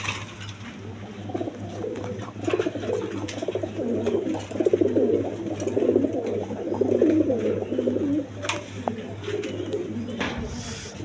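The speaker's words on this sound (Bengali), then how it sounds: "আপনার লাহোরি কবুতর" Lahori pigeons at a bird market coo continuously in a low, throaty, overlapping murmur, close and fairly loud against a steady background hum, with scattered clicks.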